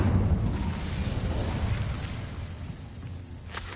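An Incendio fire spell bursts in Hogwarts Legacy, a loud roaring whoosh of flame that swells at once and slowly fades.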